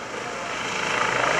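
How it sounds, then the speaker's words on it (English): Hackensack UMC medevac helicopter with four composite rotor blades and a fenestron tail fan flying at the Greenwood Lake Airshow: a steady, fairly loud broadband rotor and turbine roar that swells slightly as it nears, with no speech. "Not only is this helicopter speedy and very efficient to fly, but all of that also goes into reducing the noise signature."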